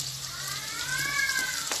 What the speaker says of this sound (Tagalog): Ngayon naman po, ilalagay po natin ang bawang at sibuyas.